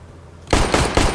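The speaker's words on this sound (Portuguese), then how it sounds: "Tiros à direita." Rapid gunfire in the video game CS:GO bursts in after a quiet moment, three loud close shots in quick succession.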